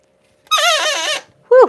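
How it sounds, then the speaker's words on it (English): The handle of a longarm quilting machine squeaks as it is lifted, a drawn-out creaking squeal followed by a second short squeak, loud and close in a quiet room. "Let me lift the handle up. It's going to squeak a little bit."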